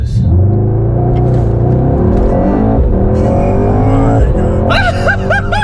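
A Mercedes-AMG GT 63 S four-door makes a launch-control start, a loud close engine roar climbing steadily through the gears with brief shifts, while excited voices talk over it.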